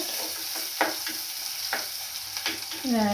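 Food frying in a pan hisses steadily while a spoon stirs it, leaving a few distinct scraping strokes spaced about a second apart; a brief tonal squeal rises near the end.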